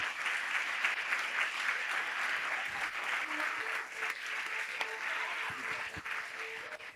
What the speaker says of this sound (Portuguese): Então vamos aplaudir a Jesus,